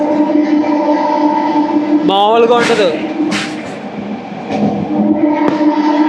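A MEMU passenger train runs with a steady loud hum and a rising motor whine, heard from a seat beside the front driver's cabin, with someone talking over it.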